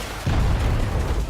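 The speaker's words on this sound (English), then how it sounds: "Even if the rocket itself doesn't hit you, the explosion makes a large damage radius" In Just Cause 4, an enemy's rocket detonates in a sudden low booming blast that rumbles on steadily for about a second.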